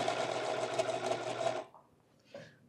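A sewing machine stitches a small fabric patch onto a coat, giving a close, steady, fast rattling hum for about a second and a half before stopping, followed by a faint click.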